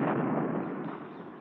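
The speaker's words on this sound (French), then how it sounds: "Ça gronde, tu entends? Le canon." A deep, rumbling boom of cannon fire rolls and slowly fades, heavy and muffled, with no voices.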